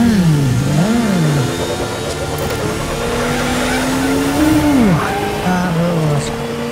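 A Batman-style Batcycle motorcycle in the video game Gotham Knights revs with a steady mid-pitched engine drone that rises and dips in pitch, loud and close, with no talking.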